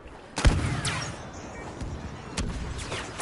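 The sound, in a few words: infantry turret gunfire in a Star Wars video game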